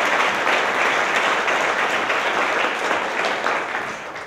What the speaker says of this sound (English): Let's give her a big round of applause as she receives her award.